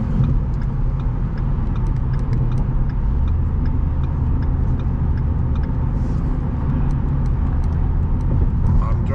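A 2013 Ford Fusion Hybrid SE cruising on a road under cruise control, with a steady low engine and tire rumble and road noise throughout, while a person talks over it from inside the cabin.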